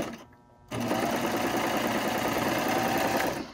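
A serger sewing machine stitches through fabric in one steady, close, continuous run of rapid mechanical whirring, beginning abruptly after a short quiet moment and stopping near the end.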